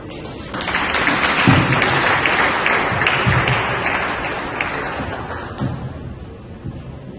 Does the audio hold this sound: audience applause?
yes